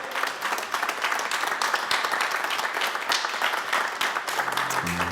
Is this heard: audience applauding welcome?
yes